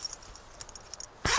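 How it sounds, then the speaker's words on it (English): A double zipper on a mountaineering tent door is pulled open, a single short, close rasp at the very end after near silence with faint ticks. "so I can unzip it that way"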